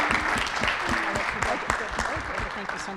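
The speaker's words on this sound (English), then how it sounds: "So if everyone can give a big round of applause, please, for our panelists." An audience at an awards ceremony for public engagement claps for panelists, close and moderately loud, with distinct individual claps standing out in a steady burst of applause.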